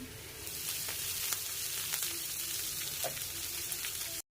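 Dill greens fry in a pan with onion, garlic and green chilli as a continuous soft sizzle, with occasional spoon ticks, before cutting off sharply.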